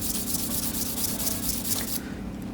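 A knife blade is rubbed steadily on sandpaper in quick, close, rasping strokes that run evenly for about two seconds and then stop, with no voices.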